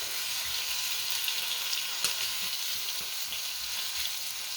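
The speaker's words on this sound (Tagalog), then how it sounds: "So kung mainit na ang mantika guys, ilagay natin. Just low heat." Shrimp canton noodles cooking over low heat in hot oil give off a steady, close sizzle with faint crackles and occasional pops, continuing evenly throughout with no talking.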